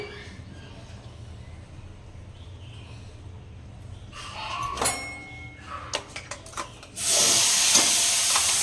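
Tomato, garlic and green chili paste drops into hot oil for a fish curry and bursts into a loud, steady sizzle after a few scattered clinks and stirring scrapes.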